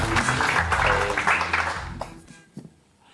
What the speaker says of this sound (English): can we please give a massive round of applause